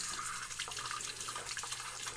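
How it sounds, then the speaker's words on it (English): Water runs steadily from a bathroom tap before a head shave with a razor, a continuous splashing hiss with small spatters throughout, alone and fairly close. "I'm going to run a little bit of water here"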